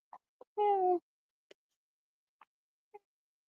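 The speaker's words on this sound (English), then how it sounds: "This is a cat." A black and white tabby cat gives one clear, fairly close meow, with a few faint clicks and short chirps scattered before and after in an otherwise quiet space.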